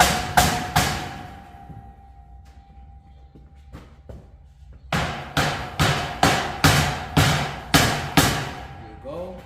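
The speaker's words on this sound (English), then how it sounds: "I'll get my rubber hammer." A rubber hammer knocks on a heavy-duty industrial steel shelving rack: a few blows, a quiet pause with faint taps, then a steady run of about eight loud, evenly spaced thuds close by.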